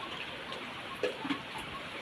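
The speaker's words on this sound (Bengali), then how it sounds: "ভালোভাবে বৃষ্টিটা হচ্ছে।" Steady, fairly faint hiss of rain falling, a constant wash of noise with a couple of small drips or splashes.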